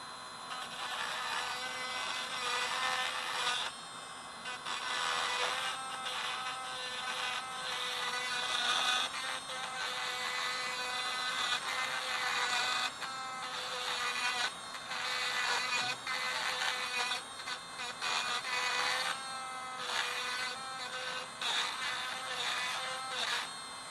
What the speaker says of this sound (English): turning on my rotary